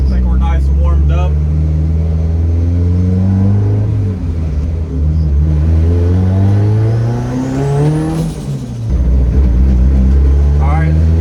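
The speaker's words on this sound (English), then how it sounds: "Alright, let's give it a little bit of a pull." A 1.8 turbo all-wheel-drive Chevy Cruze engine revs loud and close during a pull, its tone climbing through the gears, dipping between shifts, then climbing again.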